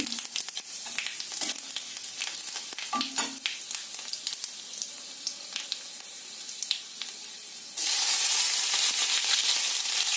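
Potatoes frying in a pan with turmeric, a steady crackling sizzle with scattered pops and stirring scrapes, growing into a louder, denser hiss near the end.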